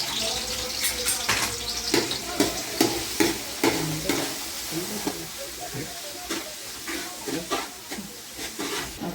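Chopped onions, ginger and garlic fry for a fish head curry with a steady sizzle and hiss, broken by the repeated scrape and clatter of stirring in the pan while someone talks.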